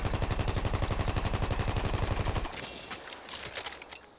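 A Parabellum machine gun in Battlefield 1 fires a long, steady rapid burst with no recoil control, loud and evenly pulsed, then stops abruptly leaving scattered clatter and ambience.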